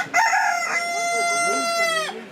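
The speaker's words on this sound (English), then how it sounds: "these are not the brown chickens Alison has set her heart on" A chicken calls close by in a farmyard in Cape Verde, one loud drawn-out squawking cry with harmonic overtones that lasts about two seconds, heard alone.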